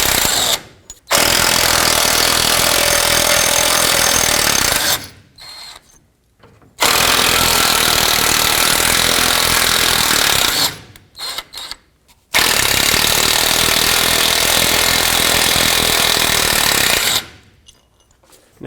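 Power tool backing out the 10mm bolts holding the sway bar bushing brackets on a 2007-14 Chevy Silverado, three long loud close bursts of rattling, buzzing drive separated by short pauses.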